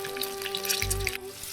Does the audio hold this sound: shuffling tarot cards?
no